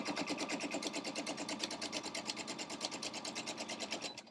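A sewing machine stitches a 1/8-inch seam on a fabric greeting card, with fast, even, rhythmic needle chatter that runs steadily for a few seconds close by, and no voices.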